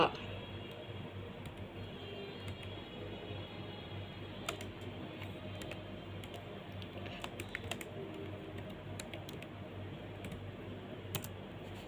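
Someone typing on a computer keyboard, an uneven patter of light key clicks with occasional sharper taps, steady at low level against a soft background hum.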